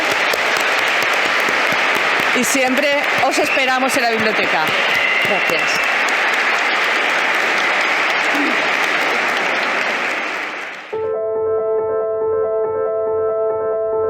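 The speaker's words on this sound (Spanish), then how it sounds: "Nos despedimos de Lola, un fuerte aplauso para ella" A library audience gives an author a loud, steady round of applause that lasts about ten seconds, then cuts off. A voice speaks over part of the applause and afterwards.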